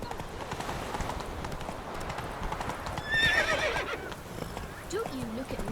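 Geralt's horse Roach trots in The Witcher 3, steady clip-clop hoofbeats running throughout with a brief neigh midway, set against game ambience and a voice speaking.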